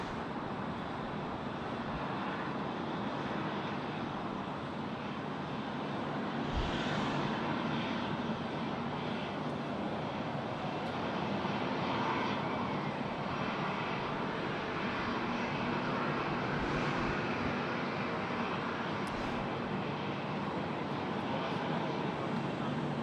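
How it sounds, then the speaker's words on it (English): A Qantas airliner takes off from runway 16 right at Sydney Airport, its jet engines a steady, broad roar that holds at a constant loudness throughout, heard from a distance with faint chatter in the background. "Qantas 655, runway 16 right, cleared for immediate takeoff."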